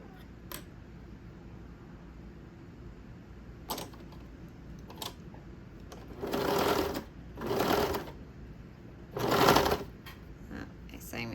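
A sewing machine stitches elastic onto a swimsuit in three short bursts of running, separated by quiet handling clicks and fabric rustle, close and fairly loud.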